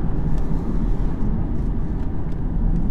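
A 2018 Audi S4 Avant with quattro all-wheel drive accelerates hard out of a tight corner, giving a continuous, loud in-cabin roar of engine and road noise.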